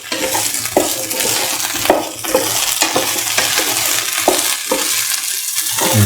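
Okra pieces stirred into a potato mixture in a pan, loud close frying hiss under a series of spaced scraping strokes and soft knocks against the pan, no voices.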